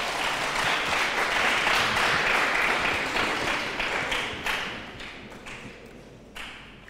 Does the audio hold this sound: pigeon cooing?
no